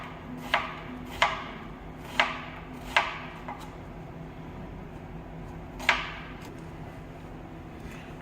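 A knife dicing half an onion on a cutting board for homemade tomato sauce, giving sharp separate chops spaced irregularly, close and fairly loud over quiet room hum, with no talking.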